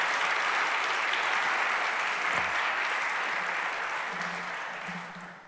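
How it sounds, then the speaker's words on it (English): Audience at a digital preservation awards ceremony applauds the category nominees, continuous even clapping that holds steady and then slowly fades toward the end. "could we celebrate and applaud all of the nominees in this category for their work?"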